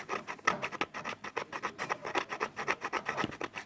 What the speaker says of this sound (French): avec un tournevis je suis en train de gratter sur le plat